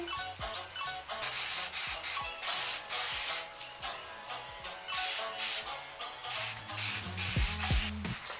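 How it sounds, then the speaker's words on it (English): Repeated bursts of a water spray bottle misting curly hair, short hissing pulses in quick succession with brief gaps, close and fairly loud, no talking. "I am going to spray my hair again with my Puff Cuff water bottle spray"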